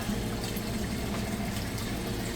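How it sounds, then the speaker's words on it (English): An Amana washer drains its water after the wash cycle, a steady, loud rushing flow that continues evenly throughout without pause. "moving out of the wash cycle now. It's draining that water out. You can hear it there."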